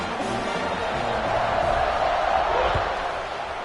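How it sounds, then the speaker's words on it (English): Stadium crowd at an LSU versus Texas A&M football game, a dense, steady roar of many voices filling the space, loud and continuous with no break. "this crowd is buzzing after that last score"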